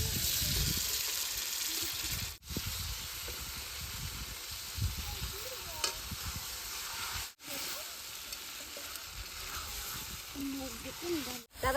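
Duck meat sizzles and hisses in a pan with onions, a steady frying crackle interrupted by brief gaps, while a voice talks over it at moderate volume.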